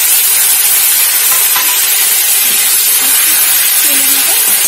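Spice paste of ginger, black and white cumin and green chilli fries in hot oil for lauki-leaf bata, giving a loud, steady sizzling hiss close up, with faint talk underneath.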